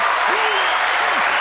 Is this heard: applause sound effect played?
yes